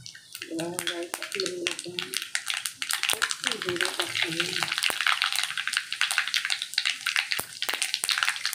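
Garlic and onion sizzle in hot oil for a green onion, capsicum and tomato vegetable dish, a steady crackling hiss with sharp spattering pops throughout, while someone talks over it.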